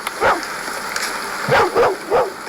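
A dog barks sharply four times, one short yelp followed by a quick run of three close, fairly loud barks over a steady background hiss.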